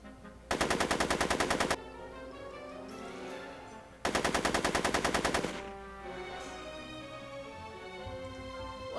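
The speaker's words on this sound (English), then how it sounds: "Are you shooting at me?" Two long bursts of rapid, loud automatic gunfire from the video game Back to the Future, each roughly a second long and separated by musical game audio, with no talk.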